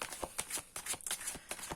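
A Moonology Oracle deck is shuffled by hand during a tarot reading, giving soft, rapid papery riffles and flicks in quick bursts, close and quiet with no voice heard.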